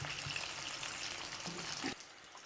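Chicken pieces for a zinger burger fry in hot oil with a steady, close, low sizzle and a faint scrape before the sound drops away at the end, without talk.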